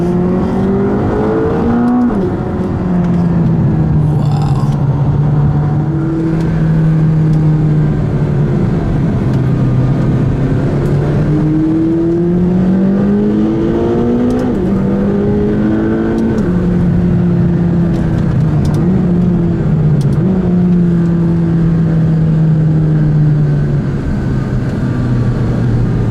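A McLaren 570GT's engine revs loudly and steadily, its pitch climbing through each gear then dropping at the shifts, with a continuous close-up drone throughout.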